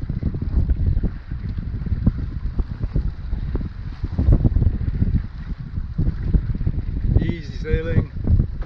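Wind buffets a single-handed sailboat under way, with gusty rumbling microphone wind and water wash running steadily and close, plus a brief higher tone near the end.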